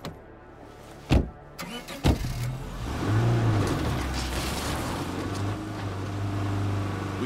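A car engine in the video game State of Decay 2 runs at a steady, moderate level with a low hum and some rising revs. Two sharp knocks come early, and no one speaks.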